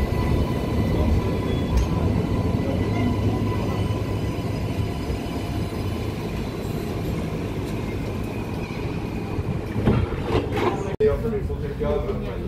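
A light rail train at Circular Quay, Sydney, rumbles and rattles steadily with wheel noise, heard from on board, and people speak over it throughout.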